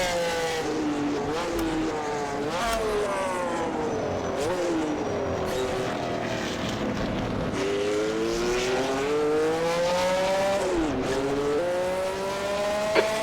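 Loud 1964-era race car engines scream around Spa-Francorchamps in a racing video game, pitch climbing and dropping through repeated gear changes, one engine dominating throughout with no talking.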